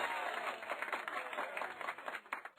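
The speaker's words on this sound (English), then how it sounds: "I appreciate the applause, but it wasn't that impressive" Scattered crowd applause, quick overlapping claps rising and falling, fairly faint and somewhat muffled, with no voices on top.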